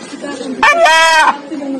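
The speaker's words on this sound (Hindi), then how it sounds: "इस वीडियो के अंदर एक मुर्गी अल्लाह अल्लाह करके अपने रब को पुकार रही है।" A chicken gives a single loud, drawn-out harmonic call lasting about half a second, close to the listener, with low background noise before and after.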